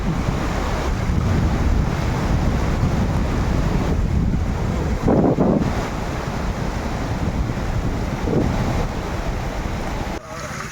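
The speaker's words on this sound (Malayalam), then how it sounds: "വെള്ളത്തിന്റെ കളകളാരോ" Continuous rushing water of a stream at Kothayar, Kanyakumari, with a broad, steady hiss, mixed with wind buffeting the microphone, close and fairly loud throughout.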